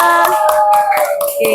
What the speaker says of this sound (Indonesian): tepuk tangan untuk temannya dong